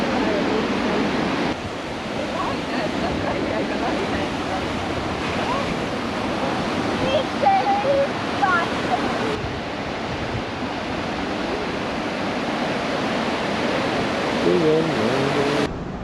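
Big waves break and surge on a beach in Gran Canaria, a continuous loud roar of surf mixed with wind buffeting the microphone, while someone talks quietly over it.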